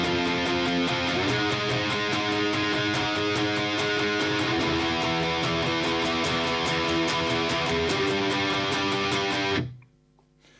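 Chunky distorted electric guitar power chords play an odd, harmonically unusual pre-chorus riff with steady rhythmic strums, loud and dense, before cutting off abruptly near the end into near silence.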